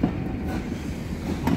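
Carriages of the steam train Mayflower 61306 roll past at Eastbourne with a steady rumble and rhythmic rail clatter, close and loud, with no talk.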